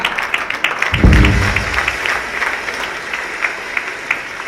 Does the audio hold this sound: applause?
yes